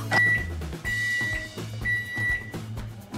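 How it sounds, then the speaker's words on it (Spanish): A microwave oven heating cold porcelain clay dough for 30 seconds gives a steady low hum, with short high electronic beeps at intervals. No one speaks. "vamos a abrir nuestro microondas y le vamos a dar 30 segundos"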